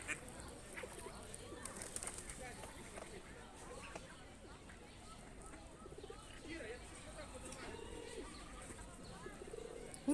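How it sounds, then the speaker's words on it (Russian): Ducks quack and scuffle as they chase each other by a lake in Kyiv, with scattered bird calls over a steady outdoor murmur and faint background voices. "Утки друг за другом бегают."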